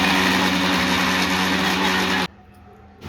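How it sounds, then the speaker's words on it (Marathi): A mixer grinder whirs steadily, grinding roasted peanuts and jaggery with sesame, loud and close for about two seconds before cutting off abruptly, leaving quiet with a faint rattle at the end. "शेंगा आणि गूळ मिक्स करून वाटून घेऊया."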